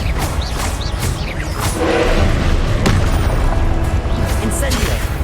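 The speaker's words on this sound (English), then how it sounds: "Expelliarmus." An Expelliarmus spell is cast in the video game Hogwarts Legacy amid loud booming blasts and crackling impacts, with a person talking over the continuous battle noise.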